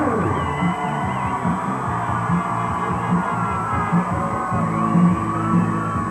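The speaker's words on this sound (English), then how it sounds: "You'll just get the screams of joy and delight from this crowd." A large crowd at the 1984 Edmonton Oilers Stanley Cup victory parade yells and whoops with joy, a steady roar of overlapping distant cheering and shouts throughout.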